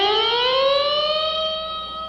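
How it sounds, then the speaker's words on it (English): Electric guitar with a vibrato bar sounds one sustained bent note that glides smoothly from low to high and then holds, rich in overtones, played alone and close. "So you get a real low note to high note effect with the bar."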